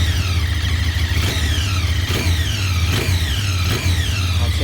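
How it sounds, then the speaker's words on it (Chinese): A QJmotor SRK 550 motorcycle with a 270-degree two-cylinder engine revs with a steady, loud, close drone, while a high gear whine sweeps upward again and again through the clip. "整个的哨音那种咻咻的感觉是很足的"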